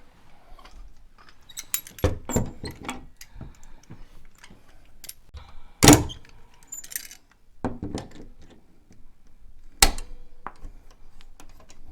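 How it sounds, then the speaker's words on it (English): Scattered metallic clicks and clanks from vice grips tightening an Onn tilting TV wall mount for a 32 to 47 inch TV, with a few sharper knocks among quieter ticks and no talk. "And now we're just getting it with the vice grips."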